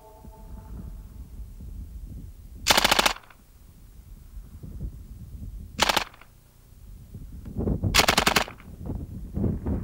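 Canadian Forces C9 light machine gun fires three sharp, rattling bursts of rapid shots, spaced apart against a low background hum.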